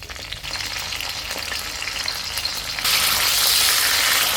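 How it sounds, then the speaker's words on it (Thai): Curry paste dry-roasting in a pan in a small rented-room kitchen, the base for a catfish om with phak khayaeng herbs. It gives a steady close sizzle that swells louder partway through, with no talk. "สูตรผมคั่วเครื่องก่อนนะครับผม คั่วเครื่องหอมๆก่อน"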